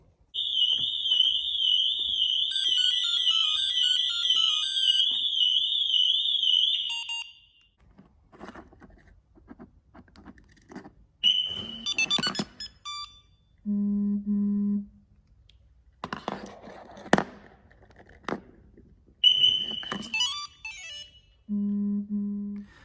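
Security alarm system fitted to a 2008 Range Rover sounding a long warbling electronic tone, followed by short separated beeps and chirps with pauses between, loud and close.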